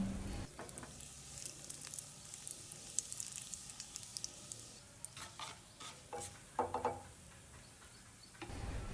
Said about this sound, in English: Fry the chopped potatoes to the state that you like.